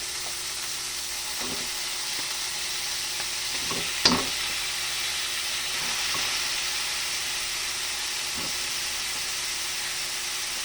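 Chicken pieces fry in a pan for a creamy chicken curry, giving a steady close sizzle and hiss with a few soft knocks of stirring. No one talks.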